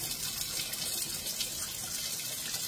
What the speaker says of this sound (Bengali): বেশি জল আবার দেওয়া যাবে না, এক্সট্রা জলটা ফেলে দিচ্ছি